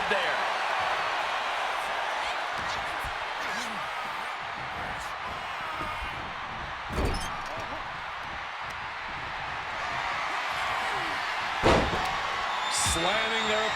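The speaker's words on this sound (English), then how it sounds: "Slamming their opponent into place." In the WWE 2K26 wrestling game, a wrestler slams an opponent to the mat, heard as two short thuds under constant arena crowd noise and play-by-play commentary.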